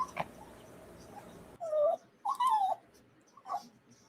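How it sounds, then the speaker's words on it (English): A puppy on a couch whimpers in several high, thin, wavering whines close to the listener. Quiet stretches fall between the whines, and fainter rustling comes before them. "We definitely got some puppy action going on right here."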